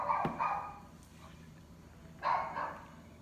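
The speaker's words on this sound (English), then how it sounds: "Our dog's barking in the background." A dog locked outside barks twice in the background, each burst a pair of quick, muffled woofs separated by a pause of quiet.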